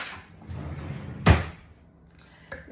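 A kitchen drawer being opened to grab a fork, with one sharp wooden thud in the middle, faint rustling before it and a light clatter at the end, close by.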